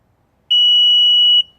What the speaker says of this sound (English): You can just hold it until it stops doing multiple beeps